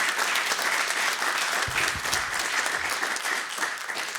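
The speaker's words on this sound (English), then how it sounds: "Please join me in giving this amazing team of leaders a round of applause for these great presentations." Applause from an audience at a city State of the City event, a dense sustained clapping close and loud for the full length, with a brief low murmur partway through.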